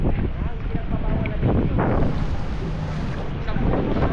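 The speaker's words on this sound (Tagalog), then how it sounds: "Lakas ng hangin." Strong wind buffets the microphone with a loud, continuous roar, and voices are faintly heard under it near open water on a boat tour in El Nido, Philippines.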